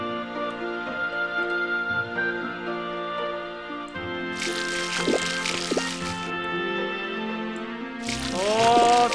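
Watering crops in the video game Harvest Moon, with repeated splashy sprinkling bursts from a watering can that come and go over a plinking game music loop.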